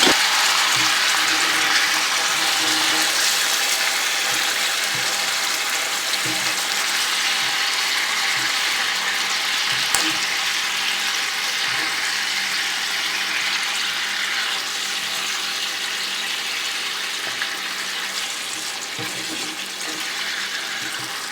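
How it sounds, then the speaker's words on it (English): Water poured into a cooking pot splashes steadily for a long stretch, a continuous broadband hiss with faint clinks and rattles underneath. "I'm going to add about half a cup of water"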